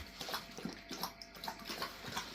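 A large dog laps drinking water indoors. Faint, quick rhythmic slurps repeat several times in a row, with no voices.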